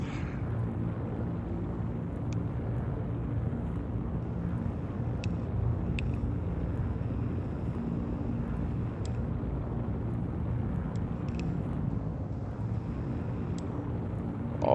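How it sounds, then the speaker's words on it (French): Steady low hum of the Drake Corsair ship's engines in the game Star Citizen, a constant droning rumble with faint high ticks, no talking. "Alors il y a une ambiance sonore dans le vaisseau qui est assez particulière. On entend bien les moteurs, hein."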